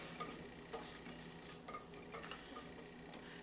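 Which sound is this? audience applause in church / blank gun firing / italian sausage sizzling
italian sausage sizzling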